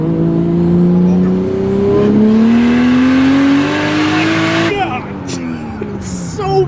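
A fast car accelerating hard through the gears, engine note rising steadily in pitch for several seconds before a gear change drops it and the climb resumes, loud and close from inside the cabin.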